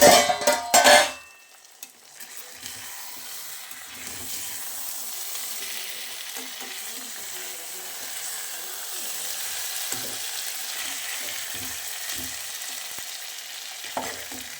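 Spicy chicken leg pieces fry in masala, a steady close sizzle running throughout after a brief louder clatter at the start, with occasional soft stirring scrapes.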